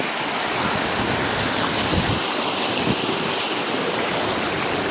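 Steady outflow of water running from a pond at a campsite, a continuous broadband rush close by with no breaks, alone and fairly loud throughout.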